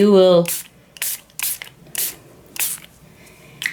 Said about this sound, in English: so let's just spritz